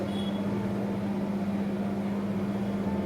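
A freshly cleaned air conditioner runs steadily indoors, giving a constant low hum with a strong tonal drone and a broad airy whoosh, unchanging and without any voices.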